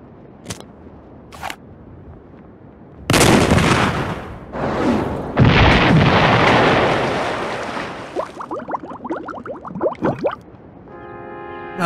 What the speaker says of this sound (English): I loaded the cannon and adjusted the sight.